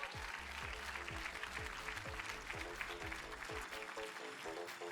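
Applause from the audience at a university fashion runway show, a broad wash of clapping heard under a rhythmic thumping music beat with a low bass pulse, continuing throughout.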